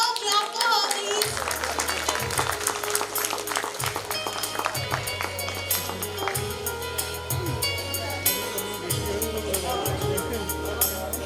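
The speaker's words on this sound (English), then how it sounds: "Clap for her, please." At a school annual function prize ceremony, an audience claps steadily for a prize winner in a busy, sustained patter of many hands, with a low electronic tone pulsing underneath.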